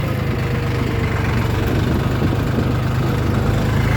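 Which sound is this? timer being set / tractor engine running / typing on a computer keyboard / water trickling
tractor engine running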